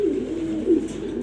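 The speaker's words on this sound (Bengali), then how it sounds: "একটা আমার ব্রিডিংয়ের কবুতর, আপনারা চাইলে নিতে পারবেন" A male breeding pigeon coos close by, giving a low, throaty rolling call that swells twice within a brief moment.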